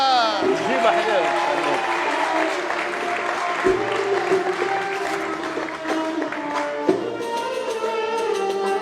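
A small group claps and cheers for Razouqa in a home kitchen during a cooking session, the applause running throughout beneath overlapping voices and bursts of talk.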